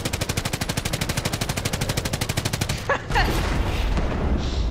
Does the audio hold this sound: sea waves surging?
no